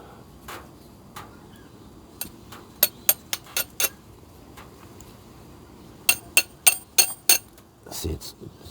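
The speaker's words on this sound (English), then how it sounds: "See, it's not sparking at all, but it's just chipping the hell out of a flint." Steel striker scraping and chipping a flint at a forge without throwing sparks, sharp clinking strikes, scattered at first and then in a quick cluster, over a quiet background.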